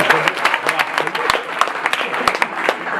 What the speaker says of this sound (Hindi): तो जोरदार ताली मेरे दादाजी के नाम पर बजनी चाहिए भाई साहब